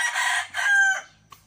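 A rooster crows loudly and close by in one drawn-out call, followed by a brief soft cluck.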